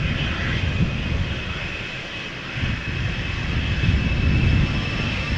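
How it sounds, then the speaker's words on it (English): An easyJet Airbus A319 jet departing Amsterdam Schiphol Airport, bound for Liverpool, roars loud and close as a broad, steady engine rumble that swells slightly toward the end. "EasyJet A319 going to Liverpool."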